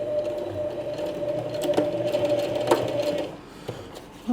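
A sewing machine runs steadily, stitching through a nylon webbing strap with a constant motor whir and needle clatter, briefly pausing near the end; no talking.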